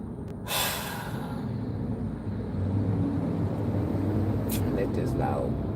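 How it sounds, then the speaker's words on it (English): A loud truck rumbling past outdoors, its low engine drone building and holding steady for several seconds, with a brief breathy snort near the start and faint background noise. "let this loud truck go by."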